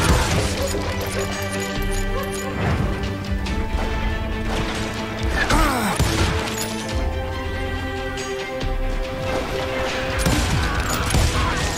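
Gunfire in Call of Juarez: Gunslinger, a Wild West shooter: repeated sharp shots and cracks ring out over a steady bed of music and game noise, loud and continuous throughout.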